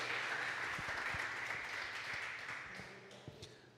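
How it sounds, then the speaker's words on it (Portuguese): Faint congregation applause in a church, a steady patter of many hands clapping that gradually thins out toward the end. "Aplauda o nome do Senhor."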